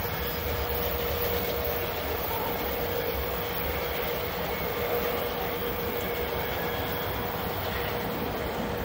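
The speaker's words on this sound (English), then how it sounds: "Steel coil train is loaded down, is always a good one" A heavily loaded steel coil freight train rolls past on a steep grade, a steady, dense rumble of rail cars with continuous wheel noise and faint clickety-clack, sustained and fairly close with no talking.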